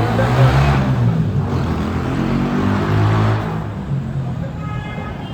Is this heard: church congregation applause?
no